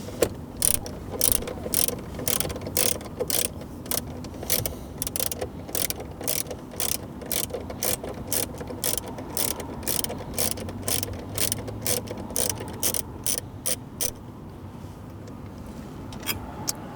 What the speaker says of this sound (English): We will remove the two 10mm bolts on either side of the factory screen.